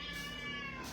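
A cat lets out one drawn-out meow at morning feeding time, close and clear, lasting about a second, with no talking.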